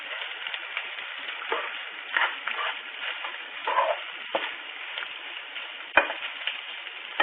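Boiled potatoes being stirred and smashed in a pan for a Telugu smashed-potato curry, giving soft scraping and faint sizzling with irregular spoon knocks throughout, close up, with no talk.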